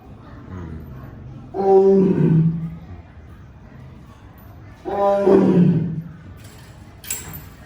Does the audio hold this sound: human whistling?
no